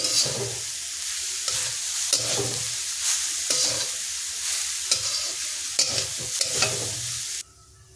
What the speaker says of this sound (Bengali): নারকেলটা একটু নাড়াচাড়া করব যতক্ষণ পর্যন্ত না নারকেলটা লাল হয়ে ভাজা হচ্ছে